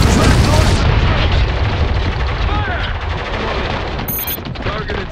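Heavy weapon fire in the war shooter Spec Ops: The Line, a loud dense barrage of blasts and booms with continuous rumbling explosions filling the whole stretch.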